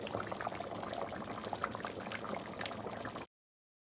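Ingredient poured into a simmering pot of Nigerian bitter leaf soup (ofe onugbu), a soft, continuous liquid bubbling and pouring sound, fairly quiet and close, stopping abruptly near the end.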